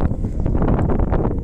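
Mountain wind buffets the microphone on the misty summit of Mount Prau above Dieng at sunset, a loud, steady rushing gust with no break.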